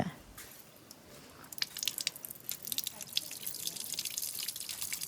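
Water is poured over someone's feet outdoors while they wash. After a quiet opening there are irregular close splashes and drips that continue to the end.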